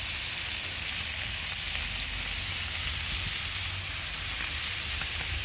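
Chicken and pork for a Hawaiian luau-style meal sizzling on a hot grill, a continuous close hiss with fine crackle that holds steady throughout, with no talking.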